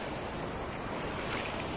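Heavy ocean surf pounds the shore at a surfers' town in Morocco, a steady, loud wash of breaking waves with wind buffeting the microphone throughout and no voices.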